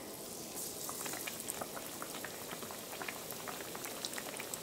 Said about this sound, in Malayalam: ഈ എടുത്തിട്ട് നമുക്ക് ചൂടായ എണ്ണയിലേക്ക് ഇടാം